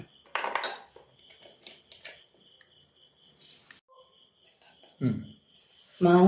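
A knife chopping raw green mango into small pieces on a board, heard as scattered light taps and scrapes up close, with a couple of louder clatters near the end and no talking.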